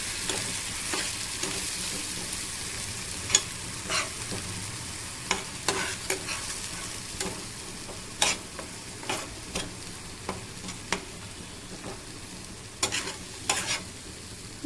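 Spice paste for rui fish kalia sizzles gently in a pan, with scattered spatula scrapes and taps punctuating a soft, steady frying hiss.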